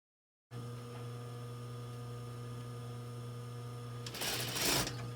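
A sewing machine runs in short bursts while stitching fabric around tight curves during a vintage clothing upcycling project, giving a steady hum that grows louder and busier near the end.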